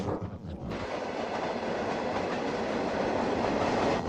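The Indian Pacific train rolls across the Nullarbor Plain with a steady, dense rumble and clatter of wheels on rail. A brief shift at the start gives way to a continuous, moderately loud roar from on or near the train.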